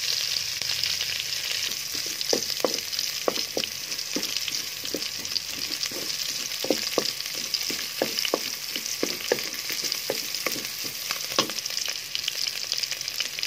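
Garlic sautéing in hot oil in a pan makes a constant close sizzle, punctuated by repeated light clicks and taps of a utensil stirring, with no voices.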